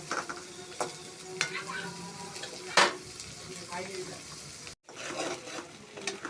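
Onions frying in a pan for a mutton bhuna, continuous hiss of hot oil with occasional stirring scrapes and a brief louder clatter, close and alone.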